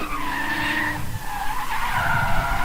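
Tires squeal in a long continuous skid over a steady, loud engine roar as a BMW E46 drifts at a drift competition, with the pitch rising and falling.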